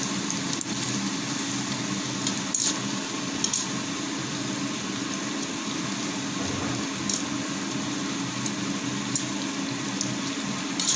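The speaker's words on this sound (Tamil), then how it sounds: "இப்போ எல்லா பிரெட்டையும் போட்டு எடுத்துக்கலாம். அதில் நல்லா ஃப்ரை பண்ணிக்கலாம்." Bread pieces for bread halwa fry in hot oil, giving a steady, dense, bubbling sizzle that runs without a break from start to finish, close and fairly loud, with no voices.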